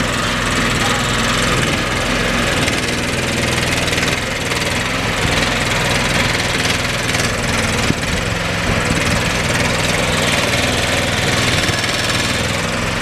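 A Shed Bug shed delivery machine, detached from its truck and run by remote control, runs its engine with a steady, loud, droning rumble that holds even throughout.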